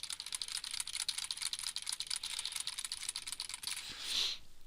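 Someone types on a computer keyboard in quick, uneven bursts of crisp clicking keystrokes, close and fairly quiet, with no voices.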